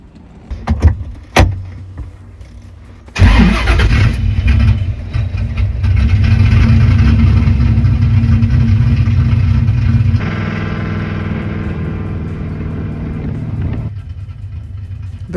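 A 1980 Corvette C3 running on E85 fires up after a couple of sharp clicks, then settles into a loud, steady idle with a slight drop in engine note partway through.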